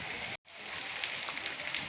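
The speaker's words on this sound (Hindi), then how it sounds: "छोटा सा हल्ला आया बारिश का" A brief rain shower in Gujranwala hisses as a steady, dense patter on surfaces, interrupted by a sudden split-second dropout before resuming at even strength.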